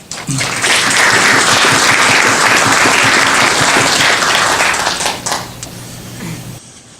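An audience at a 2017 military history symposium bursts into loud, sustained applause that swells quickly and holds steady before fading out near the end.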